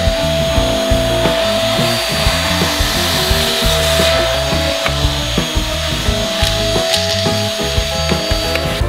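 An ALTEC VCW2 cordless vacuum cleaner runs steadily while cleaning the crevices of a chair, a loud continuous whine with rubbing and scraping from the nozzle and no talking.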